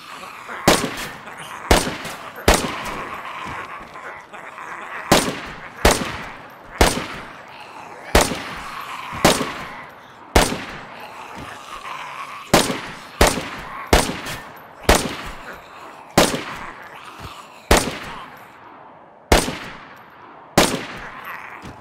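Semi-automatic gunfire in the survival video game DayZ: loud, sharp single shots fired at an irregular pace, around two dozen separate cracks, each with a short tail, over a low background rumble.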